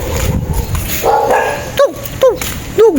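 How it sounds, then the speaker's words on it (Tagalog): An angry dog gives three sharp, close barks in quick succession after a moment of muffled background noise and faint voices. "Galit yung aso."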